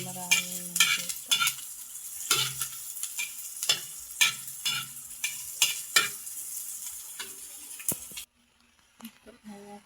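Corned beef sautéed in a small amount of oil, with close, steady sizzling broken by repeated scraping and stirring strokes of a utensil in the pan, ending in a brief quieter stretch.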